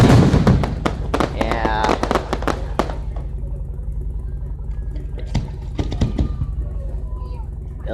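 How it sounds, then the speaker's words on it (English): Fireworks burst over a humid downtown at night, with a dense run of sharp bangs and crackles in the first few seconds, then sparser booms near 5.5 and 6 seconds, while someone talks briefly nearby. "there's some good fireworks, man."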